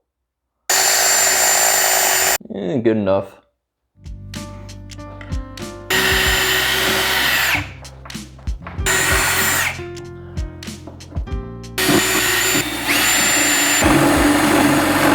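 A drill press whines in several long, loud bursts separated by pauses and clunks as holes are drilled during a Hammond M3 organ repair, with a brief spoken remark between runs.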